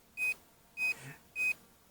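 A drone's radio controller emits a steady series of three short, evenly spaced electronic beeps, clear and close, with no talking.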